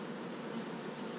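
Honey bees buzz steadily at an open hive during an inspection after a new queen, a dense continuous drone with no voices over it.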